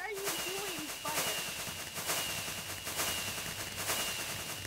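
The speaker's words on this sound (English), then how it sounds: "it's just like explosion after explosion" Explosion after explosion rumbles in Minecraft multiplayer, a dense, continuous run of loud, booming blasts with barely any gap between them, and a voice speaks briefly at the start.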